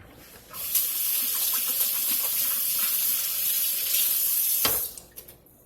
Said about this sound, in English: then I'm gonna wash my hands because I'm gonna add the butter.